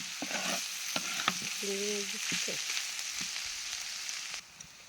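Bitter gourd frying in oil, browning to a deep red, with a steady broadband sizzle throughout, a few sharp utensil scrapes and stirring clinks, and a brief tonal hum midway.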